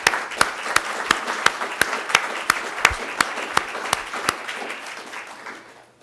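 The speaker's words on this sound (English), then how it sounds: "and I think a round of applause" A conference audience applauds, a sustained wash of many hands clapping with a few sharper individual claps standing out, fairly loud and close, fading off toward the end.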